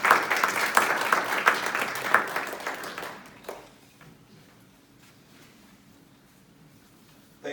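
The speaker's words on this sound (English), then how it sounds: "I hope you give him a warm round of applause" Audience applause welcoming a speaker at a myasthenia gravis patient talk on IVIG treatment, a dense burst of clapping for about three seconds that fades into scattered claps and quiet room tone.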